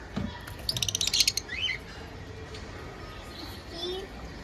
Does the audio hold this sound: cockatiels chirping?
yes